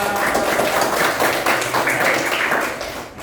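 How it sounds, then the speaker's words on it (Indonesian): Schoolroom class applauding together, a dense steady wash of clapping hands at moderate level that tapers slightly toward the end. "tepuk tangan untuk kita semua"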